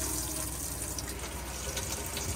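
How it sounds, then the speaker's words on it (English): Water flows from the tap of an Auto-Trail V-line 636 Sport motorhome, its water pump running, producing a close, steady gushing hiss into the sink with no talking. "you'll be able to use your tap."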